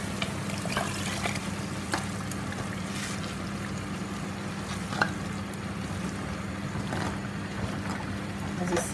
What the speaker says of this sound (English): we're going to add the water, the stock, the goat meat